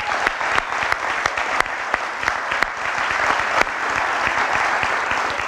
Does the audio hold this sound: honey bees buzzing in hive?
no